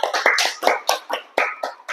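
A classroom of fifth-grade pupils claps for two classmates, a quick run of sharp, uneven hand claps close by, lasting about two seconds.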